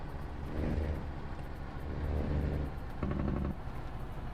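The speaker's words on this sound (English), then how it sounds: "I think I'm gonna pass this truck." Road engine rising and falling in several swells of acceleration while passing a truck, a steady mid-loud drone that revs up in three distinct surges, each settling back down between them.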